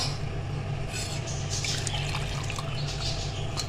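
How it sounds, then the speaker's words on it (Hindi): Water poured into a pan to make a second batch of jelly for a lab-e-shireen dessert, a steady continuous splashing flow running evenly throughout over a low background hum. "अब दूसरी जेली बनाने के लिए फिर से इसमें पानी डालेंगे"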